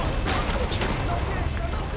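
Continuous barrage of gunfire in the video game Far Cry 5, dense overlapping shots and booms filling the whole stretch at close range with battle noise throughout.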